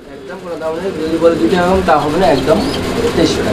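Pigeons, including a foreign breed, coo at a busy pigeon market, their soft repeated calls close by and partly buried under steady nearby conversation.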